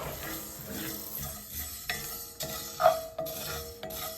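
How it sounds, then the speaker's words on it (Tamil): Spices for homemade sambar powder are dry-roasted and stirred in an iron pan on low heat, giving soft scraping strokes at an irregular rhythm with a faint crackle, close by and quiet, with no talking. "நான் சிம்மில் வச்சு தான் எல்லாம் வறுத்துருக்கேன்."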